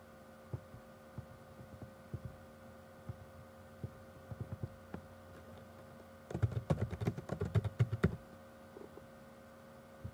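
Computer keyboard keys being typed on, a short quick burst of soft clicks over a low steady hum, preceded by a few sparse isolated taps.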